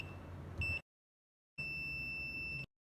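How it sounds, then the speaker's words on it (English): A multimeter in continuity mode beeps while probing an inverter board, first a short tone and then a longer one of about a second after a silent gap, faint with light background hiss. "which makes a beep when there is continuity"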